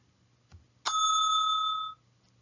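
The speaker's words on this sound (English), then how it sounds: "when you hear the service bell" A single bright ding of a service bell rings out clearly after a faint tap, its metallic tone ringing for about a second before cutting off.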